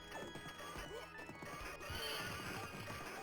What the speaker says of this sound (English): No, that horse was for Percival.